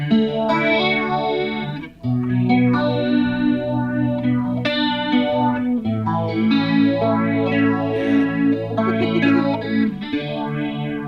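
Electric guitar played through Ross effects pedals with chorus and distortion, giving a thick, shimmering 80s-style tone; sustained chords and ringing notes fill the whole stretch, loud and up front with a brief dip near the start.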